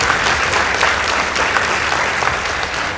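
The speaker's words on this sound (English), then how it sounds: "A round of applause for them." An audience applauds the winning team at a school debate between Maseno School and Chulaimbo Secondary, a loud, continuous roomful of clapping with no talk over it.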